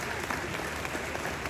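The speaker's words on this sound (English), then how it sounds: "Please, a round of applause for them." A seated audience at a cultural celebration in Kumasi gives a short round of applause, steady dense clapping with a faint crowd murmur behind it.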